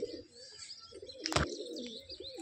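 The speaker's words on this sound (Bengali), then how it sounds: "আর দুটো পায়রার খেলা দেখাচ্ছি" Indian Turkish tumbler pigeons coo softly in low, rolling calls, with a sudden sharp flutter or clap in the middle, heard fairly close outdoors.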